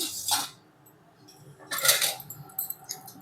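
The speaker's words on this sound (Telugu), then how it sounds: "ఇలా మంచి కలర్ వచ్చినాక చక్రాన్ని తీసుకొని వడగిన్నెలో వేసుకోవాలి." Freshly fried ragi flour murukku lifted from oil and dropped into a metal strainer vessel, making two short clinking, rattling bursts close by, with lighter taps and scrapes after.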